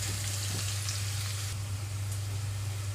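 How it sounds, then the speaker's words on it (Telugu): Onions frying in a pan over a medium flame give a steady, even sizzle that holds close and constant the whole time, with a low hum running underneath. "ఇక్కడ ఉల్లిపాయలు కొంచెం దోరగా వేయించుకుంటున్నాను"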